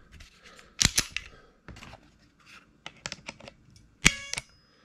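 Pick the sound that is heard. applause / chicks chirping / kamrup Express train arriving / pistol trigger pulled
pistol trigger pulled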